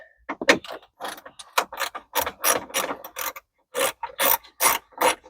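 A ratchet spins out 7mm interior screws from the shifter of an OBS Silverado, making quick raspy pawl-clicking bursts in an uneven rhythm with short pauses, close-up and alone.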